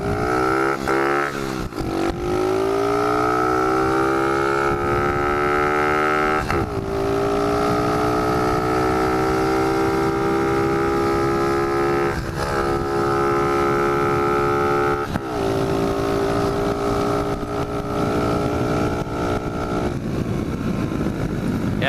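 A pit bike motorcycle runs at full throttle on a top speed run, its engine a loud, steady, close buzzing roar that climbs in pitch through brief gear shifts and then holds high and constant, no talk.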